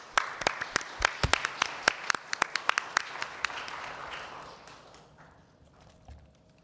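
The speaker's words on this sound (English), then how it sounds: "Let's give them and ourselves a warm round of applause for continued welcome and hope." Applause from a gathered audience, opening with loud individual claps that swell into a dense round of clapping, then thins and fades over several seconds.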